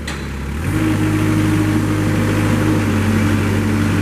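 Engine of a 2014 Moffett M55 truck-mounted forklift in a barn starts up after a brief moment, then settles into a loud, steady running drone that holds to the end.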